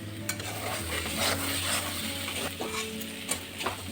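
Taro stolons being stirred in a hot pan of oil, a steady sizzle with scraping of a spatula against the wok and occasional clinks, close and continuous with no one talking.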